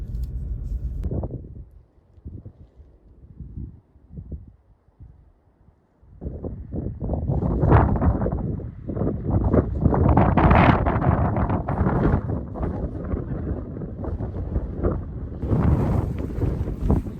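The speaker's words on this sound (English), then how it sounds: "It's windy up here." Strong wind gusting across the microphone on top of a cliff in Utah, buffeting in loud roaring bursts after a quieter, choppier stretch, close and rough throughout with no talking.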